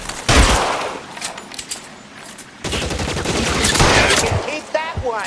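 Bursts of loud gunfire in the video game L.A. Noire, rapid machine-gun volleys and single shots close by, broken by a short pause, with a voice heard at times.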